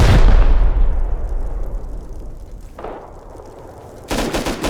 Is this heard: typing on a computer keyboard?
no